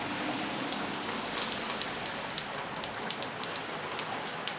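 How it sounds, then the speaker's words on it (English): Steady moderate rain from the remnants of Hurricane Isaac in St. Louis patters evenly on surfaces nearby, a dense continuous hiss with scattered distinct drops and no voices. "almost moderate rain."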